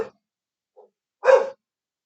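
A dog gives a few separate barks, one faint yip between two louder barks, set against silence with no talk.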